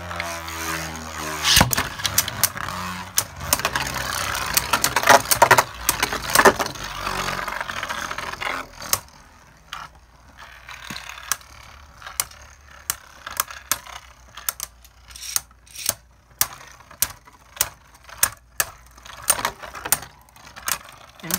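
Beyblade spinning tops battle in a stadium, starting with a dense, continuous whirring rattle. It then breaks into sparse, sharp ticks and clacks as the spin slows.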